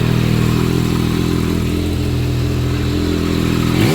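A 2024 Yamaha XSR900 three-cylinder motorcycle with its stock exhaust runs loud and close, holding a steady, buzzy engine drone for a few seconds before a brief change in pitch at the very end.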